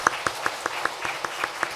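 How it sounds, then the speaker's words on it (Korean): A church congregation claps in welcome during a Sunday service, a steady run of evenly spaced claps at a moderate, distant level, with no talking. "우리 환영의 박수 해주시기 바랍니다."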